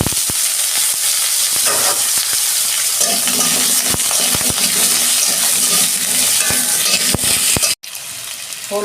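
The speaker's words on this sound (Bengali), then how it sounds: "ভেজে নিচ্ছি।" Cauliflower and potatoes frying in a pan for a Bengali roast, with a steady close sizzle broken by stirring scrapes and clinks.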